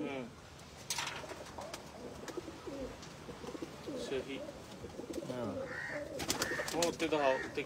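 Breeder pigeons, among them a Chinese pigeon, coo in repeated warbling phrases close by, overlapping with someone speaking and scattered clicks and knocks.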